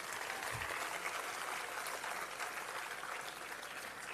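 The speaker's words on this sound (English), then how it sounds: "So ladies and gentlemen, a huge round of applause for Mr. Rajdeep Sardesai" Audience clapping at a book launch event, a steady, fairly quiet wash of applause filling the room for about four seconds with no voices over it.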